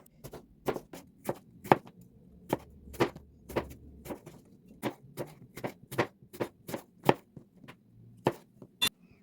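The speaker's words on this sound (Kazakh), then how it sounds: "Алмаларды жіңішкелеу етіп турап аламыз." A knife slices apples thinly on a board, making a rapid series of crisp, sharp cuts in an uneven rhythm, close and clear against a quiet background with no speech.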